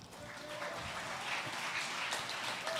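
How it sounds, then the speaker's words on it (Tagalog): A church congregation at a preaching service bursts into sustained applause, a dense, steady wash of clapping from many hands filling the room for the full few seconds. "Dapat pumalakpak ka."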